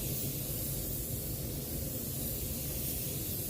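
An HVLP spray gun laying down a wet second coat of paint, a steady loud continuous hiss of atomised spray held close, with no talking.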